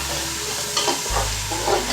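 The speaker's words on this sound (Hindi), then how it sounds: "कीमे से हल्के से भुनाई करेंगे।" Minced meat for qeema and whole masoor lentils fries lightly over a low flame, a soft continuous sizzle with a couple of gentle stirring movements, close and unaccompanied by speech.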